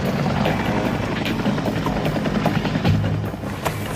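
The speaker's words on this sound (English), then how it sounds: "Surveillance helicopters and jets have buzzed the expedition" Surveillance helicopters fly overhead, a loud close rotor chop with a steady pulsing thrum and whine over a heavy low rumble, continuous throughout without talk.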